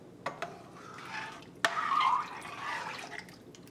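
Beef stock pours into a soup pot for Maryland crab soup, giving quiet splashing and trickling liquid sounds with a sharp clink partway through, faint and close.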